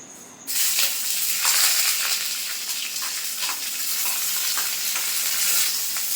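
Chopped onion hits hot oil in a wok already spiced with a bay leaf, dried red chilli and whole cumin, and a loud, steady sizzle sets in after a brief quiet start, with faint stirring scrapes running through it.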